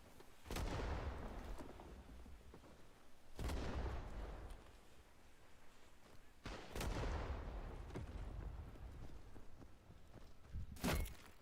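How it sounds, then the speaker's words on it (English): A Thompson submachine gun fires in the video game Black Orchestra 2, four separate short, sharp bursts spaced a few seconds apart, fairly faint, with low background rumble between them. "I'm shooting you with that Thompson from very far away"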